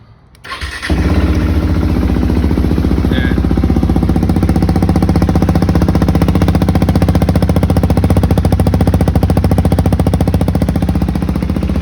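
A modified KTM RC 390 motorcycle engine, started cold, cranks and catches, then settles into a loud, steady, deep, throaty idle that runs on continuously, close by with no talking.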